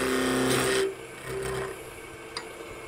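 A wooden drill handle is parted off on a wood lathe, a close scraping, rasping cut while the piece spins, then quieter rubbing and a faint click as it finishes.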